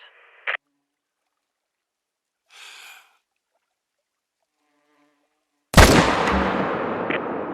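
A hunting rifle fires once in theHunter: Call of the Wild, a loud sharp crack with a lingering rumbling decay, preceded by a few faint clicks and quiet game sounds in near-silence.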